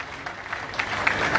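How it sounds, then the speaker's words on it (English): An audience claps for a speaker at a Liberian bicentennial celebration, a short burst of applause that builds and stays fairly even, heard at a moderate distance. "Let's give Dr. Ali a big hand clap."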